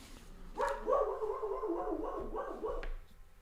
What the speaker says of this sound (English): I can't concentrate when my dog is just barking outside